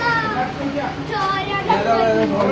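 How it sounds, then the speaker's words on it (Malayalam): High, thin mews from two kittens repeat close by, overlapping one another, with a voice talking underneath, near a house where a straw fire broke out. "ഈ രണ്ട് പൂച്ച കുട്ടികളാണ്"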